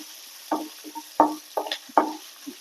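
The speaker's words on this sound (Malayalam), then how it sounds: "ഞാനൊരു നാല് പച്ചമുളക് എടുത്തിട്ടുണ്ട് നടുവേ കയറി വെച്ചിട്ടുണ്ട് ഇത് നല്ലതുപോലെ ഒന്ന് വറുത്ത് കൊടുക്കാം" Oil sizzles in a pan with four green chillies frying while a spatula stirs in several short, sharp scraping bursts, close and fairly quiet.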